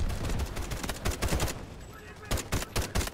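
Rapid video game gunfire in dense automatic bursts, loud and close, pausing briefly before another string of shots, with a player's voice talking over it.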